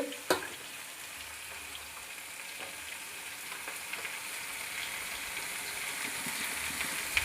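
Bottle gourd greens fry in a pan with salt, turmeric and ginger paste, a soft, steady sizzle at low level with a light clatter near the start and faint stirring throughout, no voices.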